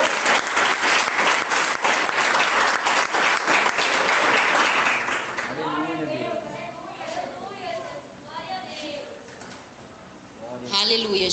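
Loud applause from a church congregation welcoming a missionary, filling the first five seconds before giving way to someone speaking over fading claps and murmurs, with a brief swell of sound at the very end.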